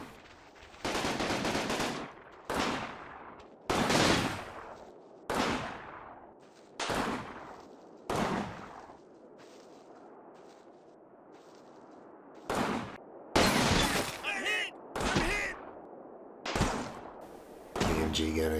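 Machine gun fire from an MG position in the World War II game Combat Mission: Battle for Normandy, sounding as a series of sharp bursts spread across the clip, some louder and closer than others, with quieter gaps between them.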